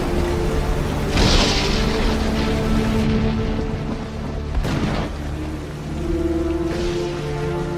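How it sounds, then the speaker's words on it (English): Steady rain pours throughout with broadband hiss, punctuated by a couple of deep rumbling booms of thunder. "It's a terrible storm."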